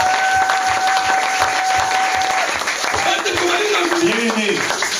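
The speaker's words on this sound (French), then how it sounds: "Vous acclamez Jésus." A church congregation claps and cheers for Jesus, a dense loud wave of applause throughout, with voices calling out over it.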